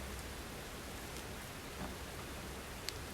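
Steady rain falls outdoors, an even broadband hiss of droplets with a few faint individual drip taps, soft and continuous with no voices.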